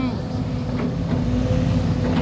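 A Sumitomo SH210-F6 excavator's four-cylinder common-rail turbo intercooled diesel, a water-cooled 4HK1X, idles with a steady low drone and faint tonal hum while digging a pond, heard up close.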